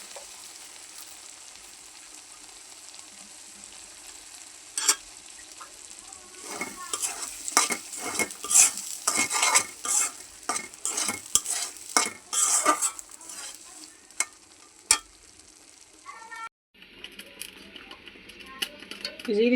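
A spoon stirs curry in a pan as cumin powder is added. Low sizzling leads into a burst of rapid scraping and clattering strokes that stops abruptly, followed by quieter frying.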